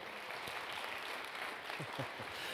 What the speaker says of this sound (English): Can we get another round of applause for Reverend Cynthia Vermillion-Foster?